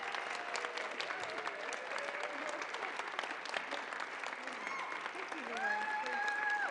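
Audience at the 2016 Global Humanitarian Summit opening ceremony gives a sustained ovation, dense applause filling the hall, with a voice rising briefly near the end.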